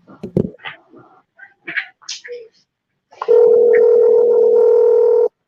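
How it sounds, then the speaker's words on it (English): A telephone dial tone for an outgoing call hums loud and steady for about two seconds, following a few scattered short beeps and clicks of the phone. "I'm calling Jeremiah Chie"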